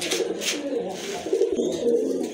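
Pigeons coo softly nearby, low throaty warbles repeating over a faint background hum.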